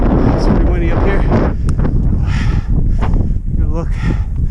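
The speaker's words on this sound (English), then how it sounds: "It's pretty windy up here." Strong gusts buffet the microphone on a high, exposed stretch of the Laugavegur hiking trail in Iceland, roaring and fluttering in uneven bursts, with brief voices mixed in.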